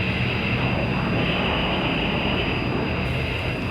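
The jet-powered Thrust SSC car speeding past, heard as a loud continuous jet roar that holds steady for a few seconds with a slight shift near the end.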